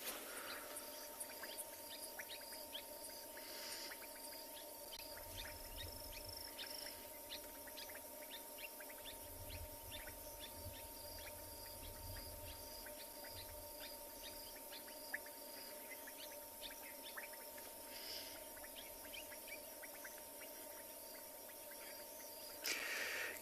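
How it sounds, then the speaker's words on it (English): Bubbling kassina frogs call faintly from a South African night, a scatter of soft popping notes over a steady insect drone, distant and without voices. "Beautiful sounds, the frogs calling, or the bubbling casina frogs."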